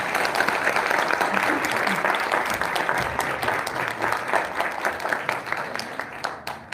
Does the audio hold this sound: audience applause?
yes